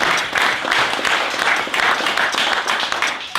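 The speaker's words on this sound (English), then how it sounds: "Give Rick a round of applause, please." Applause from an audience at a Fleet Street Sporting Club event honoring a guest, steady clapping from many hands that holds loudly and evenly throughout with no break.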